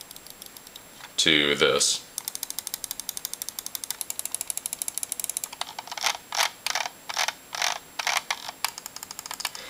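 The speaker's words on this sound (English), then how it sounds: "Now the middle click isn't as quiet as I'd like it to be, but it is a bit quieter" Middle-button clicks on a Microsoft Intellimouse Optical, before and after a quiet-click mod: a long run of rapid, close, sharp clicks, then a slower series of louder, spaced clicks, with a short burst of speech near the start.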